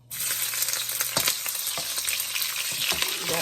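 Onion frying in a pan for a traditional African pasta dish, a steady close sizzle with faint crackles and a few stirring scrapes, no voices.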